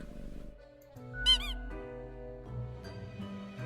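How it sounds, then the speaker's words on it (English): A rubber toy squeaks in the Death and Taxes video game, a short pair of bright, pitched squeaks over a steady hum of game music. "The toy squeaks out in reply."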